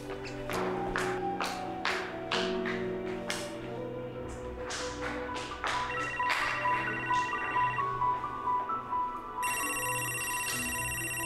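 A phone ringtone repeats as an incoming call arrives at a hotel. Its steady electronic tones sound fairly close over a busy background of taps and clatter, with no one talking.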